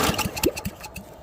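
A lawn mower engine being revved hard during a torture test, heard as a rough, sputtering run of rapid pops and uneven bursts, loud and close.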